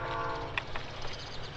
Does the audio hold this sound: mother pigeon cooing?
no